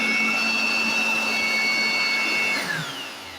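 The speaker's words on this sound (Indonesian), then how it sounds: "selanjutnya kita tes fungsi yang kedua itu sebagai vacuum cleaner ya" A Tora two-function electric hand blower running in vacuum cleaner mode, a loud close motor whine with a high airy roar that holds steady, then winds down in pitch and volume near the end.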